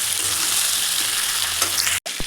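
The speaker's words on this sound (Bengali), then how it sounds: "দিয়ে দেবো ভেজে রাখা সবজি, আলু আর পটল। ভালো করে এটাকে মিক্স করবো।" Fried potato and pointed gourd being stirred in a frying pan, a continuous loud sizzle with scraping spatula movements and a brief pause near the end.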